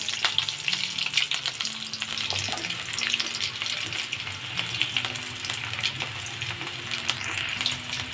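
Potatoes nearly done frying in mustard oil in a kadai for stuffed aloor dum, a dense continuous crackling sizzle with faint occasional stirring, steady and close at a low level.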